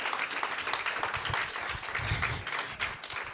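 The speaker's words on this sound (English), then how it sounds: "can you give us a round of applause here for our phenomenal panelists who have joined us" Applause from a conference audience for panelists at a summit session, a moderately sized crowd clapping in an uneven, fairly quiet patter with a few sharper individual claps.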